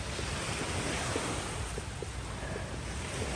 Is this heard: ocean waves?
yes